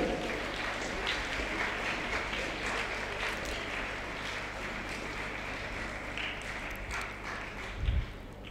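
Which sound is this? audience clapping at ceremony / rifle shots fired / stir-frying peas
audience clapping at ceremony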